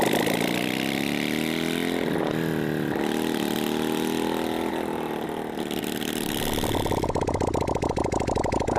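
A V-twin motorcycle engine fires up and runs for several seconds with a loud, steady, close-up rumble, then settles into a rapid, choppy idle pulse near the end.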